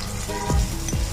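Chopped ginger fries in hot oil with radhuni and mustard seed tempering, a brief close hiss broken by a few quick spatula strokes.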